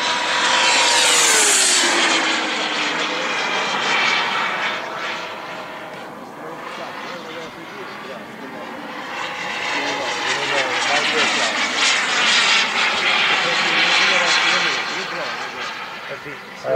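Jet aircraft with two engines of 19 kg thrust each roar past at a 2013 jet meeting in Karlskoga, a loud sustained rush that swells and fades over continuous commentary.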